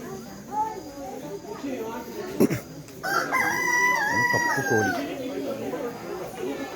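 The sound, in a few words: black chicken clucking and crowing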